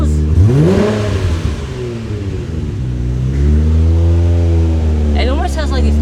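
A twin-turbo 1JZ engine in a Nissan Skyline revs up and falls back, loud and close, then holds at a steady idle-like drone with a brief rise near the end, voices talking over it.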